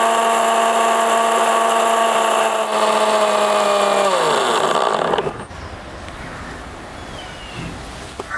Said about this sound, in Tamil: இப்போ இதை நம்ம மிக்சியில் போட்டு அரைச்சிப்போம்